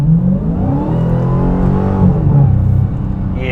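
A 2023 Dodge Challenger Hellcat Jailbreak accelerates hard, its loud supercharged V8 rising through the revs with a brief dip at a gear change before climbing again, heard close with no talking.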